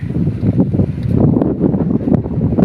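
Strong, steady gusts of dry wind buffet a microphone outdoors, a loud continuous rumble with rough, uneven surges throughout.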